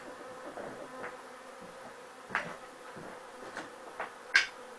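Honeybees from a weak colony hum faintly and steadily around a budget hive, with a few soft taps and knocks rising above the low drone, no talking.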